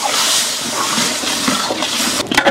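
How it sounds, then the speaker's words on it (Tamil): Hot water is poured into roasted rava (semolina) while making kesari, a continuous close hissing splash and bubbling rush that builds briefly near the end, with no speech. "சூடு பண்ணி தண்ணி நல்லா பொறுமையாக சேர்க்கணுங்க, இல்லைன்னா கட்டி ஆகிடும்."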